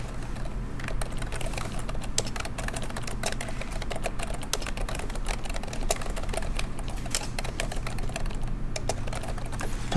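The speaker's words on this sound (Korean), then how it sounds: "백스페이스 눌러봅니다." Computer keyboard keys are typed and pressed while entering text in AutoCAD, a steady run of quick, light plastic clicks at close range, continuous throughout with no voices.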